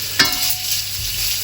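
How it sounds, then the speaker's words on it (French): Bacon cooks over low heat in a pan, a soft steady sizzle close by, opening with a short sharp scrape of stirring and then settling into a quiet continuous crackle. "Donc notre bacon est en train de cuire, on le surveille hein, bien sûr."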